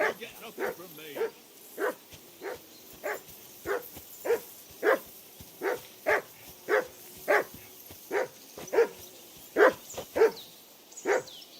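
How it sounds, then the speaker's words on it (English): A dog barks repeatedly in the medieval role-playing game Kingdom Come Deliverance II, about twenty sharp, evenly spaced barks at a steady rhythm, moderately close. "That barking was a pain in the ass."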